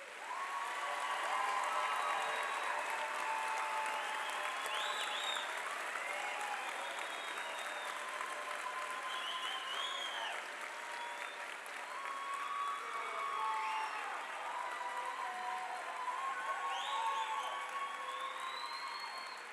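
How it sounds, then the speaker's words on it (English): An audience applauds at the Basic Academy Class 214 graduation ceremony with sustained clapping. Scattered cheers and whistles rise above the steady roar throughout. "If we could give all of 214 a solid round of applause."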